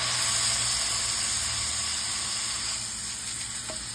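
Smash burger patties sizzling in a cast iron skillet, a loud steady hiss of frying meat held close throughout, fading only slightly toward the end, with no voices.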